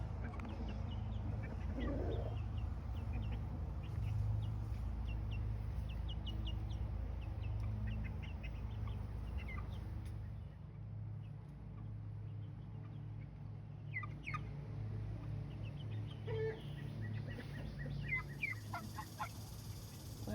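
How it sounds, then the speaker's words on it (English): Chickens cluck softly and intermittently over a steady low outdoor hum, with occasional short calls scattered throughout. "The babies decided to get brave and they ventured out in the yard with the big chickens."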